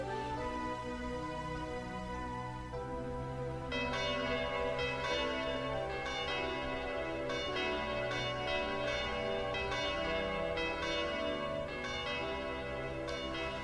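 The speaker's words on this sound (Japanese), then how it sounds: "伝説の鐘が鳴るって信じてたんです。" The legendary church bell from the Tokimeki Memorial 2 video game rings out in repeated resonant strikes over sustained tones and music, steady and clear, with no talking.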